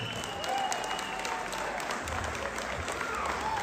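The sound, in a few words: applause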